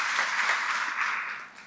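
A short stretch of audience applause at a UN food systems event, a continuous patter of many hands clapping that fades slightly toward the end.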